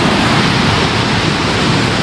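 A hidden waterfall called Ghaghi near Ambikapur, Chhattisgarh, with white, milky-looking water pours in a steady, dense, loud roar that fills the whole clip with no pauses and no voices.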